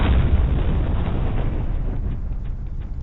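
Cannon fire in the game M.A.V., heard as a dense run of low, rumbling blasts. They roll together into a continuous boom that slowly fades, with no talking.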